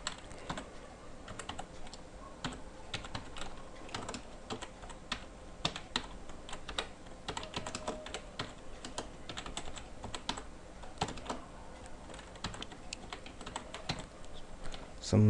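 An address is typed into billing software on a computer keyboard, producing a close, steady run of rapid key clicks with irregular rhythm for the whole stretch, without talk.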